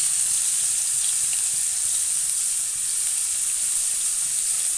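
Chopped onion pieces fry in hot oil for an omelette, giving a steady, continuous sizzling hiss that stays even throughout with no talking.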